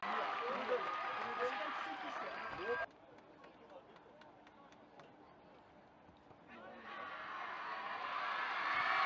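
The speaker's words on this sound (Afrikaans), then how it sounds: "Hoor hoe jubel en juig sy eie skooliere vir hom." Schoolgirls of Helpmekaar Kollege cheer and shout for their player at a school rugby match against Hoërskool Menlopark in Braamfontein, a loud crowd roar that breaks off, leaves a quieter stretch of scattered voices, then swells again.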